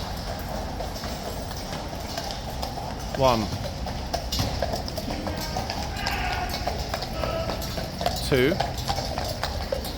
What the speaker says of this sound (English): There is that glorious clippy-clop sound. Clippy-clop in the tunnel again.